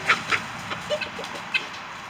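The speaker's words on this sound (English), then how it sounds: "Chickens, they're fighting each other about" Chickens fighting each other squawk and cluck in short agitated bursts, close by, with a few scattered sharp calls.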